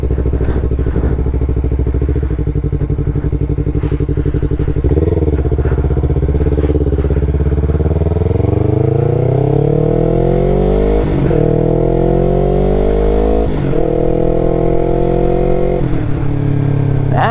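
A 2019 Yamaha R3 streetfighter motorcycle fitted with an M4 full exhaust idles loudly up close, then pulls away and shifts up through several gears, the engine note climbing with each shift.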